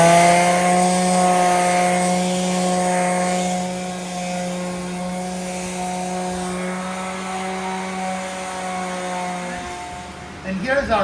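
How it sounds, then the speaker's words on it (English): A wooden butcher block countertop gets its final sanding with 120 grit sandpaper, giving a steady droning hum of a sanding machine held close, continuous and loud for about ten seconds before it stops. "the next step will be a final sanding to fix imperfections"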